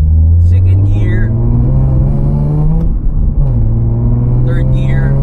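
A 2008 Nissan 350Z NISMO accelerating hard in second gear, its engine note climbing steadily and loud from inside the cabin, dropping briefly at a shift before rising again, while people talk over it.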